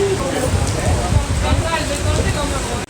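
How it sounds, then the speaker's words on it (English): Steady rain from a rainstorm in Puerto Plata patters on a nearby surface, a dense crackling hiss throughout with scattered heavier drops, fairly close and constant. "Looks like I'm going to have to wait out a bit of a rainstorm here."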